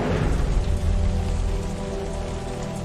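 Heavy rain pours down in a loud, dense, continuous hiss that stays steady throughout, with a low rumbling undertone and no voices.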